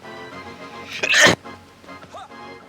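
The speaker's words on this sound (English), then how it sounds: "I had a sneeze" A single sudden sneeze bursts loudly into a gaming microphone, a sharp explosive blast lasting a moment amid quiet background tones, followed by faint trailing sounds.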